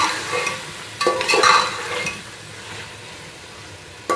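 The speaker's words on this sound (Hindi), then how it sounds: "अब मैं गोश्त को इसके साथ अच्छी तरह से फ्राई करूँगी" Beef being fried in a pot for pulao, with bursts of stirring and scraping around the middle and a soft sizzle underneath, fading to a quieter background before a brief clatter at the end.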